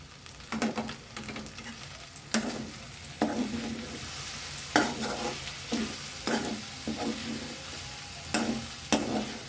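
Sautéed okra stirred in a pan for a South Indian okra poriyal, with soft frying hiss under repeated scraping strokes of a spoon against the pan, close by and alone.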